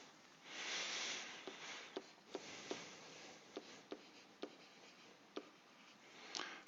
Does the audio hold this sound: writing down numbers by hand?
yes